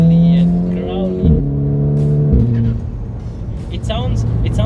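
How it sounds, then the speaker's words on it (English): A tuned VW Golf 5 GTI with a Golf 6R turbo engine revs in rising and falling bursts, its four-cylinder exhaust deep and throaty, with speech in the background. "this car also has its exhaust done by power pipe, so it sounds very nice"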